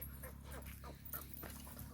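A dog barks and whimpers in a few short yips at moderate distance, over a steady low hum and background noise.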